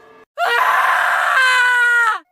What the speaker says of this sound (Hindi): चिल्ला रही थी अभी।